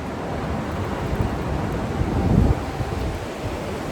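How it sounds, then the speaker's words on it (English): Strong wind blowing outdoors by the sea among trees, a steady broadband rush with surf-like roar that swells briefly in the middle, close and continuous with no talking. "It's a lot of wind."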